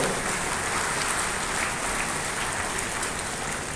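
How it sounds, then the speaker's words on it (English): Large audience applause at a university convocation ceremony, a dense, even wash of clapping that holds steady and fairly loud throughout, with no voices over it. "You can clap for him and clap for yourself also."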